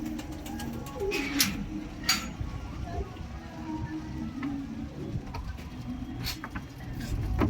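Pigeons coo softly in a loft amid low rustling and shuffling, with a few sharper bird calls breaking through; steady close background over several seconds, no talk over it.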